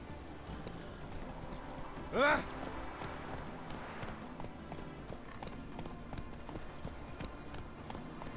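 Horse hooves clip-clop steadily at a gallop across a Witcher 3: Wild Hunt landscape, the rhythm continuous throughout, with a short neigh-like burst and a brief voice near the two-second mark.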